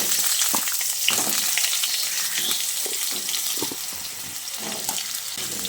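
Cut potatoes fry in hot mustard oil tempered with black cumin, a loud, dense, continuous sizzle close up, with occasional soft clatters of stirring.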